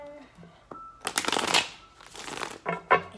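A deck of tarot cards is shuffled by hand in several quick riffling bursts, close and crisp, with soft handling clicks between them.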